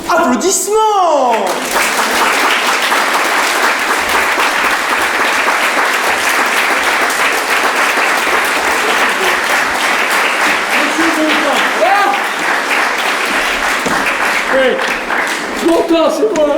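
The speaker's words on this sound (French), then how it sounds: "Applaudissements!" Audience clapping continuously after a number in a French musical comedy stage show, a loud sustained wave of applause with some scattered voices and laughter mixed in.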